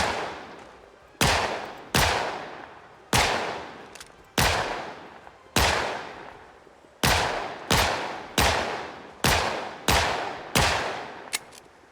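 Gunshots in the video game Project Zomboid, about a dozen loud, sharp reports fired at uneven intervals with short ringing decays between them, no voices.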